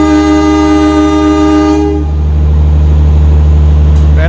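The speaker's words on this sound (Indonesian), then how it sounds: "Kereta api Sawung Galih diberangkatkan kembali dari stasiun Cirebon menuju stasiun Kutoarjo" The Sawung Galih passenger train departs Cirebon station with a loud, sustained horn blast that cuts off midway, leaving a deep, steady rumble of the moving train.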